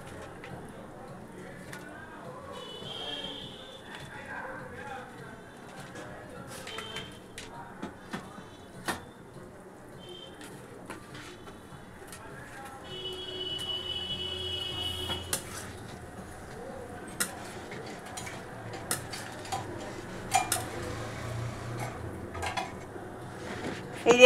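Fried pakoras are tipped into curry in a pan, with clinking of pots, utensils and cutlery, scattered knocks and scrapes that grow busier toward the end, close and moderately loud.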